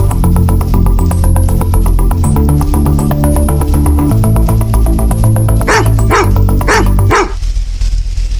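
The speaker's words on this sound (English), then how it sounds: "Police, Corporal, send the dog." A police dog barks in rapid, loud, repeated bursts close by, ending with a few sharper yelps before the sound drops away.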